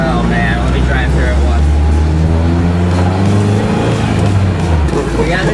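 A Nissan S14 with a newly installed engine drives around a shop track, its loud, steady engine drone rising and falling in pitch close by, with a voice speaking briefly over it.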